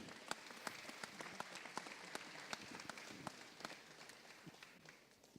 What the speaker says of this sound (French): ça mérite quand même quelques applaudissements